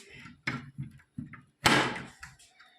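A door is worked open against a strong wind with a series of knocks, clunks and rattles, ending in a louder bang and a rush of wind noise, close by.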